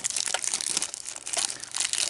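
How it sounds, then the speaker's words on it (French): Stiff plastic blister packaging crinkles and crunches continuously as it is pried out of a collectible tin box, a close, dense run of crackling with no voices. "on peut donner une paire de ciseaux pour retirer le blister parce qu'il est vraiment dur à retirer."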